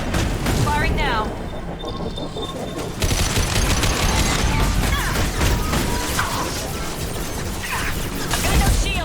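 Weapon fire in a Mass Effect 2 battle: loud volleys of rapid shots and crashing impacts, nearly continuous, with voices speaking over the combat.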